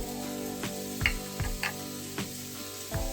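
Vegetables sizzle steadily in a hot pan for a stir-fried udon noodle dish, with a few soft clicks and stirring scrapes over the constant frying hiss, close up and without speech.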